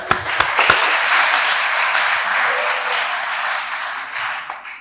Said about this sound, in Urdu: تمام بھرپور تالیاں دیجیے